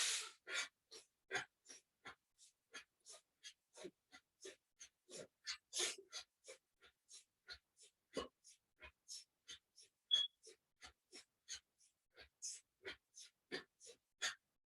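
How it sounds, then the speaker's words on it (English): Rapid, forceful yoga breaths of the Vastika Pranayama (bellows breath) exercise: a long run of sharp, evenly spaced nasal puffs, close and crisp, about two per second with brief silences between. "breathing in through your nose, breathe out, Vastika Pranayama"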